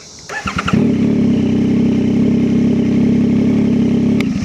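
A 2025 Yamaha MT-09 motorcycle engine, during an oil change, cranks with a few quick sputters, then catches and settles into a steady, loud idle close by.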